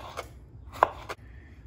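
Cucumbers, seeded beforehand, sliced thin with a knife for a red onion curtido: a few quiet, separate chopping taps against a cutting board, close by over faint room noise, with no talking.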